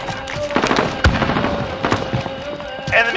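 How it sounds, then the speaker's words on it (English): Grenade blast during a Call of Duty Modern Warfare multiplayer match, a sharp boom that cuts through a busy mix of crackling gunfire and game announcer voice lines. "Throwing grenade"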